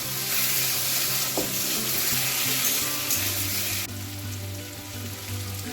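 Taro pieces fry in a pan with salt, sugar, turmeric and green chilli, giving a continuous bright sizzle with scraping stir strokes and a low hum beneath, steady and close without talk.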